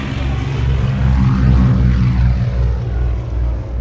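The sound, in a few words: Avro Anson twin-engined propeller aircraft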